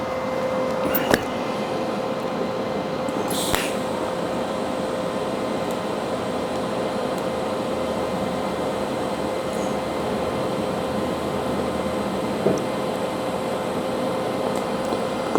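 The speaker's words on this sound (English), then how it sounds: "So I think I'll just weld up to that point, then I'll go beyond it and come over here and weld it" A metal headpiece sculpture being welded produces a steady, close crackling hiss with a faint underlying hum and a few sharp clicks, continuing unbroken with no voices.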